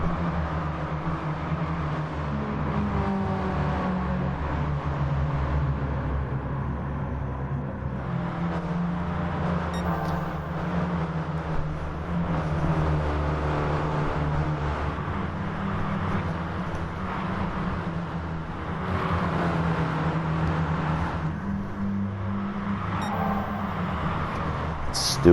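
Race cars in a one-make field in a racing video game, several engines droning steadily together at close range, with rises and falls in pitch as they battle through the pack, someone talking over the continuous engine noise.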